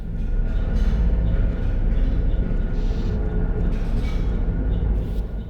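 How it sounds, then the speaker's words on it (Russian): Ambient soundscape from the video game Portal: a steady, loud low rumble with a dense mechanical hum, faint scattered hissy swells drifting above, continuous and unbroken with no voices. "однако на самом деле Portal звучит вот так"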